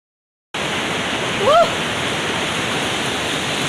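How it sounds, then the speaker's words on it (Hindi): Steady roar of a mountain waterfall in the jungle, loud and continuous broadband rushing water, with a brief faint chirp-like sound partway through. "आखिरकार मैं पहाड़ के खूबसूरत झरने तक पहुंच गया।"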